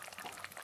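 A pot of sour fish curry bubbles at a soft, constant simmer, faint and brief.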